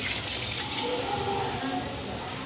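Water used to rinse a mixer jar with tamarind being poured into a pan of fish curry, a steady close rushing pour that continues evenly without talk.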